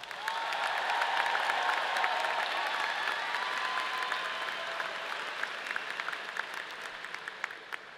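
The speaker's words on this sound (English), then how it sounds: "let's give them a round of applause" A large convocation crowd of incoming university students applauds residence life staff, sustained broad clapping from many people that swells early and tapers gradually, with a few scattered louder claps standing out near the end.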